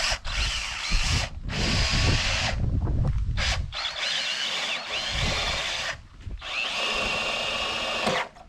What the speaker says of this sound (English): Here, I'm drilling pilot holes where I marked out where both the sink and induction cooktop will go